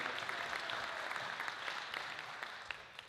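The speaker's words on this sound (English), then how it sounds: "Let's give Regatta a big round of applause for lunch today." Applause rises from a Rotary club crowd at a lunch meeting: a soft, distant patter of many hands clapping that stays fairly even, then thins and fades toward the end.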